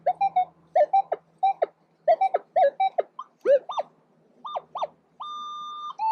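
Short warbling electronic beeps repeat in quick bursts, then shift to higher rising tones and a steady held pitch, a metal detector in an old city park signaling a coin, likely a quarter.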